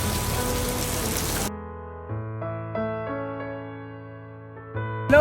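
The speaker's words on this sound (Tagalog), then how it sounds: "Grabe ang ulan." Heavy rain pours in a dense hiss for a moment, then cuts away to quiet sustained musical tones.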